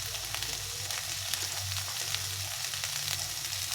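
Tomatoes fry in a pan with boiled black chickpeas and potatoes, giving a steady, close crackling sizzle dotted with small pops and the occasional stir, no one speaking.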